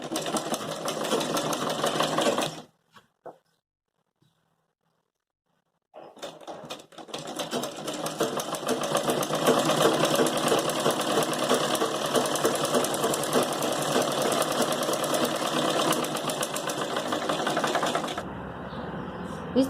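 A sewing machine stitches a sleeve onto a long party-wear gown made from an old sari. It runs in a steady, loud whir for about two seconds, falls silent for a few seconds, then runs continuously for about twelve more.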